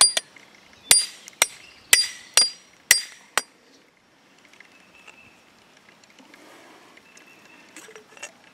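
A hammer strikes a nut threaded onto a mower part in six sharp metallic clinks, evenly spaced about half a second apart, then quieter shuffling and faint tool handling follow.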